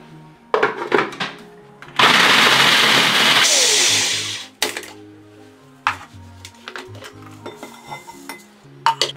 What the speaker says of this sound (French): Maintenant, je vais mixer 250 g de sablé.